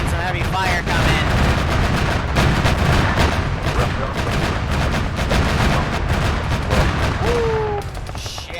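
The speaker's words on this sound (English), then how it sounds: "Now you're seeing some heavy fire come in." Heavy gunfire in Arma 3, dense bursts of rapid shots and booming impacts crackling continuously at close range and loud, a short whistling streak near the end as the barrage thins.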